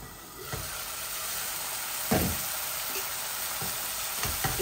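Spice paste frying in oil in a pan before greens go in, a steady close sizzle and hiss with occasional stirring scrapes and soft clinks.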